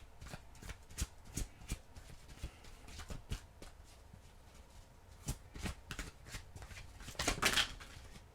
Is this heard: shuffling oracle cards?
yes